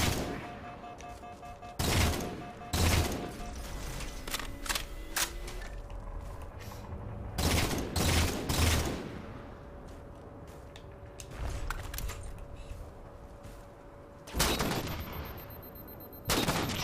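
Sniper rifle fire in Halo 4: sharp, loud cracks spaced a few seconds apart, some in quick pairs or triplets, each ringing out over a humming game soundscape.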